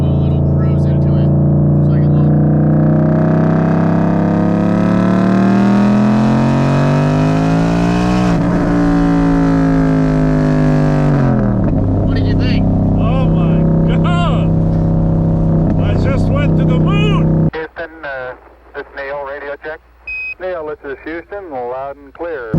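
A supercharged Ford Mustang engine pulls hard from inside the car during a cruise, a loud rising roar with gear changes and supercharger whine, then dropping away as voices talk over it.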